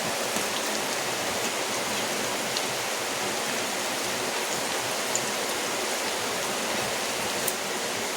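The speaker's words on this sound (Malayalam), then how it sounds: "നല്ല മഴയാട്ടോ അതുകൊണ്ട് ഞാൻ വോയിസ് ഓവർ കൊടുക്കുമ്പോൾ നിങ്ങൾക്ക് പാടായിരിക്കും കേൾക്കാൻ" Heavy rain falls steadily outdoors, a dense, even hiss of drops with no breaks, moderately loud and continuous throughout.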